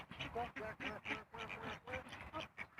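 Wild ducks quack in rapid, repeated bursts, close and lively, one call tumbling after another in an uneven chattering rhythm.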